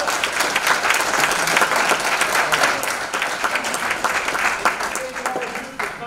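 A live real estate investor meetup audience gives Jay a big, sustained round of applause, dense and steady throughout with a voice faintly over it.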